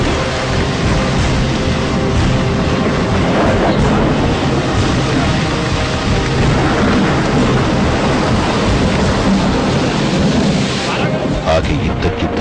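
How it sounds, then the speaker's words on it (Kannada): Heavy rain pours steadily and loudly throughout, with deep rumbling thunder rolling underneath, a continuous dense storm wash with no clear breaks. "ಆಕಾಶದಲ್ಲಿ ಗುಡುಗು ಸಿಡಿಲು ಆರಂಭವಾಗಿತ್ತು."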